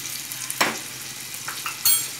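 Red chili powder frying in hot oil for a fish curry is stirred, giving a soft continuous sizzle with a few brief scraping strokes from the spoon, close and fairly quiet.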